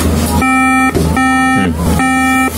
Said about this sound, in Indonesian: bip 3 kali yang terjadi pada MacBook pada saat kita nyalakan